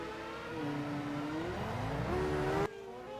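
A race car in a wet-weather racing video game locks up and spins, its engine note swooping up and down in a steady loud whine before cutting off abruptly near the end.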